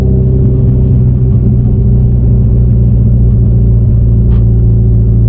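A Subaru WRX STI being driven, its engine a steady, loud low rumble and drone throughout with no break, heard from inside the car.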